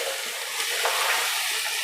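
Onions and potatoes sizzle steadily in a pot as part of a potato and green bean stew with sausage, a continuous close crackle and hiss with no talking.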